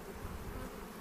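Honey bees buzz steadily during a hive inspection, a soft continuous drone of many insects close by with no talking over it.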